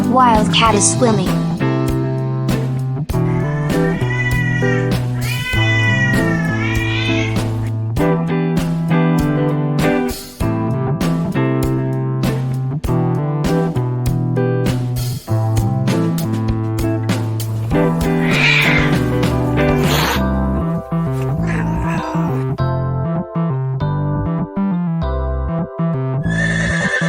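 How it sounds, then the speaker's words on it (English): Wild cat meows from an animal sounds collection for children, heard over a steady music bed with harmonic vocal-like calls throughout and no talking. "Wild cat is swimming."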